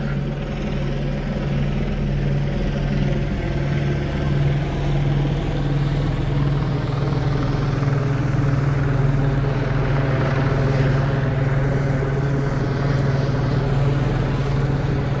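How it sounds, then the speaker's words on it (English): A police helicopter hovers overhead during a car chase response in Hemet, with a constant, loud rotor drone and engine hum that holds steady throughout. "Chopper's definitely focused on these houses over here"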